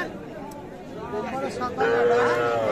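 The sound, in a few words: Sahiwal calf mooing at cattle market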